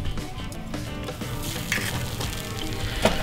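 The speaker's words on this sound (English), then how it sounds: "I'm gonna crack an egg in there." Egg frying in hot bacon grease in a pan, a steady close sizzle and crackle running throughout with small pops, no voices.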